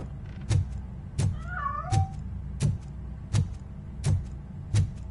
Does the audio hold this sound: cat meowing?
yes